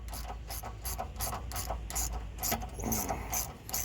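A hand ratchet takes out chain tensioner bolts, making quick repeated clicking strokes in a steady rhythm up close and at moderate volume, with a soft rattle near the end.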